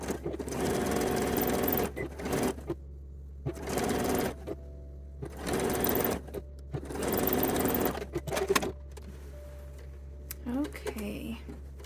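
A sewing machine stitches the back seam of lingerie in four or five close, loud bursts of rapid whirring and clatter, separated by pauses in which a steady low hum carries on.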